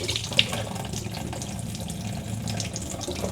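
Liquid poured off canned tomatoes into a sink, a steady close splashing stream with a faint gurgle running the whole time, no voices.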